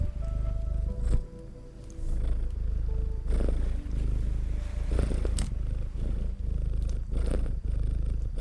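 A cat purrs steadily up close, a continuous low rumbling rhythm that carries through the whole stretch with a brief dip near the start and small rustles over it.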